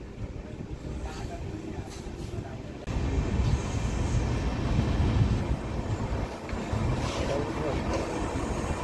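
A Mail Express on the Agartala–Narangi run rolls out of New Karimganj Junction with a steady rumbling, clattering rush that grows louder after a few seconds, with voices faintly mixed in.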